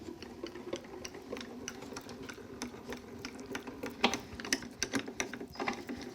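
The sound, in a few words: die-cutting machine cranking card through a die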